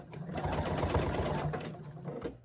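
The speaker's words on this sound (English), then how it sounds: "we're going to sew a partial seam" Sewing machine stitching a partial seam in quilt fabric, a steady rapid needle chatter running for a couple of seconds at moderate volume, close by and without talk.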